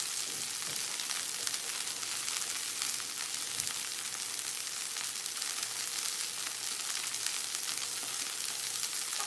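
A halibut fillet frying in a Saladmaster pan, an even, unbroken hiss of sizzling oil held at a steady level, close by and with no one talking.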